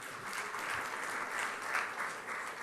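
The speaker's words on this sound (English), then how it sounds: "so a round of applause for that as well" A round of applause at a compliance awards ceremony, a soft, steady wash of many hands clapping in a hall, moderately distant and continuous.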